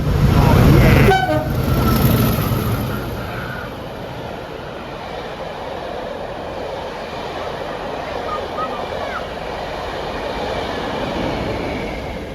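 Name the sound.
Class 40 diesel locomotive rail tour passing, horn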